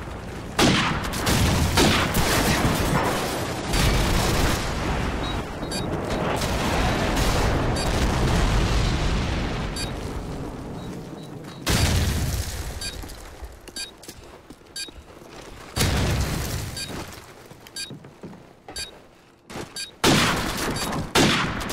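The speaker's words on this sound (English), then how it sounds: "Friendly airstrike on the way." Friendly airstrike in Call of Duty 4 multiplayer on the Pipeline map: a long rolling barrage of loud, overlapping explosions and booms that rumble continuously, then break into separate heavy blasts with brief gaps between them.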